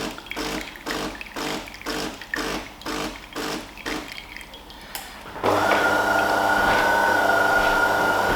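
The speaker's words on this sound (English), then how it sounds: "So it's doing the rinse cycle" DeLonghi bean-to-cup coffee machine on its rinse cycle: a run of evenly spaced gurgling pulses of water, then a steady, louder whirring, hissing flow, heard close with no talk.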